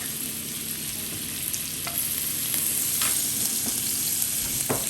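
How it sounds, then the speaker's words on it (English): Butter frying in a hot cast iron wok, a steady close sizzle and crackle with a high hiss throughout and a few sharp spatula taps. "So today I am cooking with a cast iron wok."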